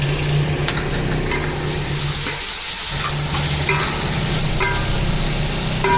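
Tomatoes and mint frying in a pan while cooking boti biryani, a steady close sizzle with repeated scraping and stirring strokes throughout, no talking.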